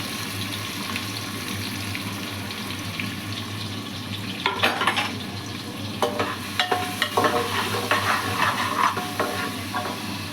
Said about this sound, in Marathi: तेल टाकलेले कांदा टाकून परतून घेऊ.